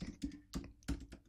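Light tapping of keys on a computer keyboard, a few quiet, irregular clicks close by.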